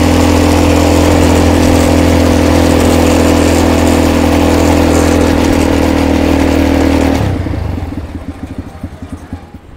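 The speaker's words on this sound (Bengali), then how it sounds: "এটিভি রাইড আমরা করলাম।" An ATV engine runs loud and steady during a ride at an eco retreat near Konark, Odisha, holding a constant drone before cutting off abruptly, leaving faint outdoor background.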